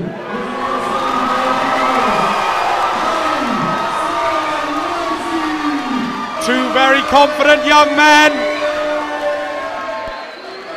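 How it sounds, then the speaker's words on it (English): A boxing crowd at a varsity bout between Cardiff Met and Cardiff University cheers and shouts in a loud, continuous roar while an announcer speaks over it, with a burst of sharper whoops near the end. "Crowd is getting into this early on."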